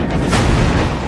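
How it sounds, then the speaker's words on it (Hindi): A loud, heavy explosion of an armoured vehicle hit by a drone roars briefly, a dense rumbling blast with no voices. "यहां भी धमाका होता है।"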